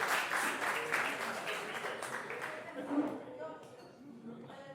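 Wedding reception guests give a round of applause, a broad wash of clapping that swells at first then fades over a few seconds, heard beneath an announcer's voice on the microphone.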